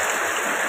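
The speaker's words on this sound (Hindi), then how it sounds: "ये देखिए एक नंबर की बारिश आज हो रही है" Heavy rain pouring down steadily outdoors among trees in the evening, a dense, constant hiss without any voices.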